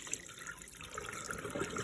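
Water pouring off washed, soaking rice in a kitchen, a continuous close splashing trickle with small drips running the whole time, with no voices.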